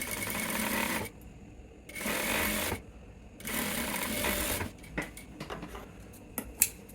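A sewing machine stitches a gently curved cross pocket on full-length pants in three steady bursts of close, loud whirring, followed by quieter clicks and fabric handling.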